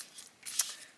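Scissors cut a paper strip for a card belly band, giving a few quick, faint snipping crunches at close range in a quiet room.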